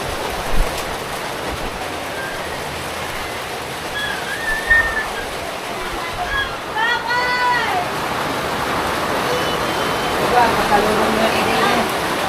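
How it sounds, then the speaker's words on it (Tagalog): Heavy rain pours steadily as a dense, loud hiss that grows stronger, with people talking faintly underneath. "Lumakas pang ulan."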